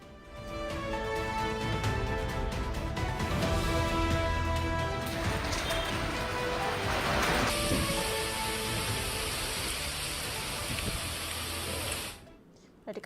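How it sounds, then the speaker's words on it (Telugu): Heavy downpour in Hyderabad, a steady dense hiss of rain on surfaces at a constant level for about twelve seconds before it cuts off abruptly. "అరగంట నుంచి నాన్ స్టాప్ గా వర్షం కురుస్తోంది"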